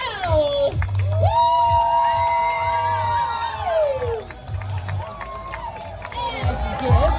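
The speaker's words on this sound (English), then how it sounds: "Let's cheer real loud for her." A group of voices cheering and whooping loudly for a runner, with long sustained shouts that swell, dip briefly and then rise again over a few seconds.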